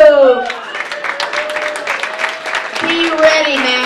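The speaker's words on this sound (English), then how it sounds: "Round of applause for the birthday." Audience applause and cheering at a 2010 comedy roast at Lafflines, a dense crowd wash of clapping filling the room, with a voice talking over it near the end.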